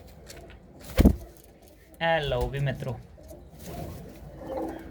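Pigeons cooing softly in a coop that also holds two tiny chicks, with a sharp knock early on. Someone speaks over the birds in the middle.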